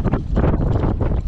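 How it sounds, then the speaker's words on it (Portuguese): Strong wind buffets the microphone on a fishing boat out on open water, a continuous loud roaring rush with gusty swells and no voices heard. "Olha o vento. Já pescamos na chuva e agora pescando no vento."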